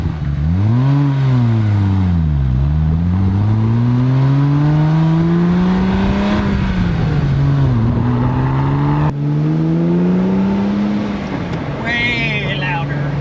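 A Porsche 911 Turbo S cabriolet pulls away, its engine revving up and shifting through gears in loud sweeping climbs and drops, close by, with someone speaking over the engine.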